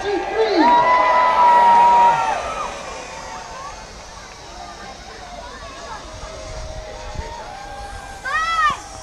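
A crowd, many of them children, gives a loud, rising cheer with shouts and whoops at an outdoor show in Bridlington, then fades to a murmur with a brief burst near the end.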